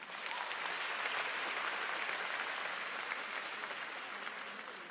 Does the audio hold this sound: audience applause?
yes